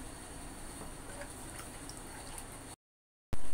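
Water boiling in a cooking pot while making ragi upma gives a steady, close hiss with soft bubbling, then cuts abruptly to a brief silence before resuming loudly.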